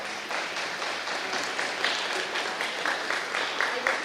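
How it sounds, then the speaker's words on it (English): A room of attendees at a community budget workshop claps for the facilitator, a steady round of applause of moderate loudness with a few sharper claps near the end. "Let's give a round of applause for our facilitator for an excellent job"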